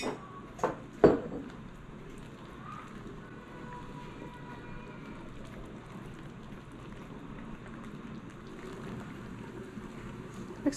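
Lilac jelly with a sugar pectin mixture bubbling in a pot, a steady crackling, rain-like simmer heard close throughout, with a few sharp knocks at the start and no talking.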